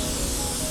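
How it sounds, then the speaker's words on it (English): Spray gun atomizing Glasurit 100 line metallic black paint onto a panel, a steady close hiss with no break. "How it's atomizing it, how it's spraying it and stuff."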